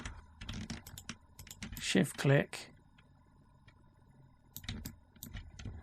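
Keyboard keys and mouse clicks at a computer running Blender 3D software: close, crisp taps in scattered bursts and short runs, with someone speaking quietly in between.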